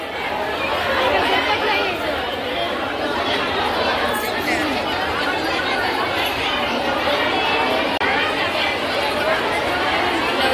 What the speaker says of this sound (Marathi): जेवायची रांग, जेवायला गर्दी किती आहे बघा लग्नामध्ये.